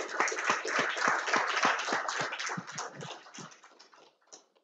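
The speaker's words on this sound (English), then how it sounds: "let's give Patrick a great big round of applause" Audience at a talk on lake sturgeon passage claps for the speaker, Patrick, with a dense run of sharp individual claps that thins and fades out near the end.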